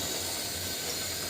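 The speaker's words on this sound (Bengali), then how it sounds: "ঝোলটা কিন্তু খুব সুন্দরভাবে ফুটতে শুরু করেছে।" A bitter gourd, potato and tomato fish curry broth begins to boil in a pot, giving a steady, even bubbling hiss that stays at a constant level throughout, with no voices.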